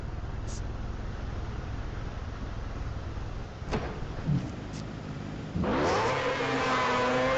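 A motorbike in the video game Xtreme Motorbikes idles during a speed test, then its engine revs up sharply and climbs in pitch, loud and close.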